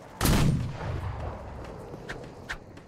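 A single loud, sharp volley from a firing squad in the musket-era game Guts and Blackpowder, booming up close and trailing into a rumbling tail, followed by two faint distant pops.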